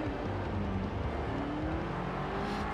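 A BMW M5 engine in Forza Horizon 4 drones steadily and loudly, its pitch rising gradually as the car accelerates, with no talking.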